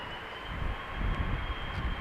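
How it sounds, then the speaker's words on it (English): An Airbus A330 spools up its engines at Amsterdam Schiphol, a distant, steady jet roar with a rumbling low end that swells slightly partway through. "Meanwhile, the A330 is spooling up already."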